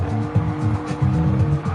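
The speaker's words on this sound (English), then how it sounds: "I can hear a car behind." A Gr.3 racing car engine in Gran Turismo 7 at Willow Springs drones steadily, its pitch rising and dipping with gear shifts, loud and continuous without any talking.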